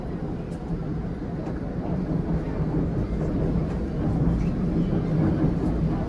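An LRT train runs along the elevated rail line near Araneta Center-Cubao station, giving a steady, fairly loud rumble and rolling noise that holds evenly throughout, with no talk.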